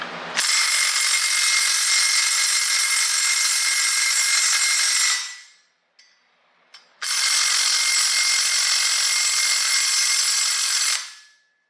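An 18-volt Hitachi cordless power tool runs at full speed in a shop during work on an EJ25 engine for a 2010 Subaru Outback Sport, with a loud steady whine for about five seconds, a brief stop, then another long run.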